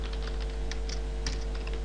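Quick, irregular keystrokes on a computer keyboard, clicking close and steady for the whole stretch over a low, constant electrical hum.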